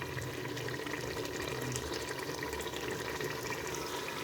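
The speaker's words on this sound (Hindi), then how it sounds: "अब इसमें थोड़ा सा पानी ऐड करते हैं।" Water poured steadily into a pot of potato curry (aloo shorba) on the stove, a continuous close splashing and gurgling stream with no talk.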